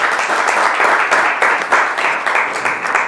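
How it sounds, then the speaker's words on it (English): An audience at a community event gives a round of applause, a dense steady burst of many hands clapping throughout. "let's give her a round of applause,"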